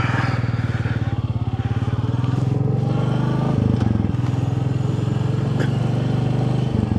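A Royal Enfield Classic 350 motorcycle engine thumps steadily at close range, a loud continuous single-cylinder chug with brief dips in rhythm as it rides through Chandigarh traffic.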